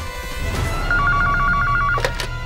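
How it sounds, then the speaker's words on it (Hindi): A telephone rings with a rapid, buzzing electronic trill, fairly loud and close, followed by a couple of brief clicks. "अरे सर को फोन करता हूँ।"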